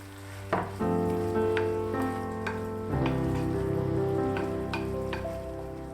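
Steady frying sizzle fills the pan as crushed walnuts are stirred in, a utensil scraping with occasional sharper clicks over the continuous hiss.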